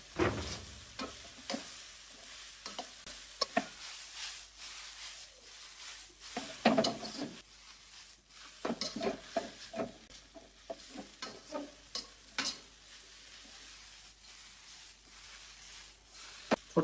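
Vegetable chow mein without egg or chicken stirred and folded in a small wok, soft sizzling under irregular scraping and tossing strokes, close and moderately quiet.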